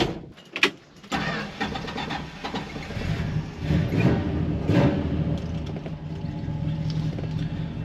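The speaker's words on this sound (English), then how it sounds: "Sounds really nice with a set of Flowmasters on it." A 1968 Plymouth Sport Fury's 383 V8 cranks and catches, then settles into a deep, rumbling idle with a throaty Flowmaster exhaust note that rises briefly with a couple of revs.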